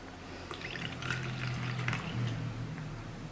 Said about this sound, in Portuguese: você pode colocar aqui um pouquinho de água